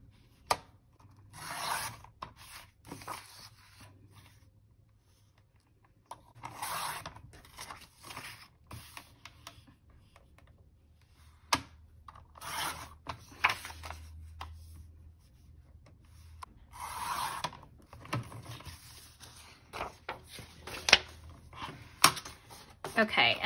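Paper sheets being trimmed on a paper trimmer while making a budget dashboard, heard as repeated short bursts of rubbing and slicing scrapes at close range with quiet pauses between strokes.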